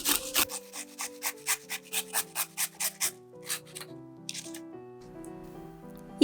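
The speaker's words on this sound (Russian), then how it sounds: "Натираю огурец на мелкой терке." Fresh cucumber rubbed on a fine kitchen grater, a run of about a dozen quick rhythmic rasping strokes up close, then slowing to a few scattered scrapes and quiet.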